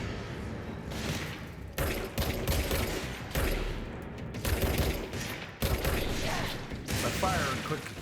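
Gunfire from shooting in the video game Control comes in rapid, closely spaced bursts separated by brief pauses, loud and up close.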